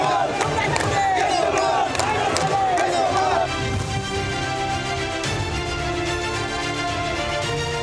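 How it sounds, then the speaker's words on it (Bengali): A political procession crowd in Birbhum loudly chants slogans in the name of Anubrata 'Keshto' Mondal, a dense wall of massed shouting voices that rises and falls continuously. "কোর কমিটি তৃণমূল ছাপিয়ে স্লোগান ওঠে কেষ্টদার নামেও"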